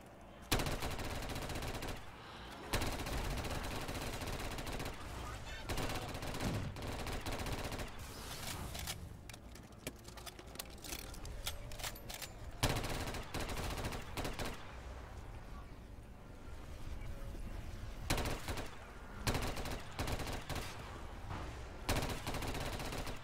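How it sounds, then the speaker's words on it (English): Long bursts of SPKM machine-gun fire in a Walking Dead-inspired custom zombies video game, rapid rattling volleys broken by short pauses across the whole stretch. "Bro, the SPKM is the gun."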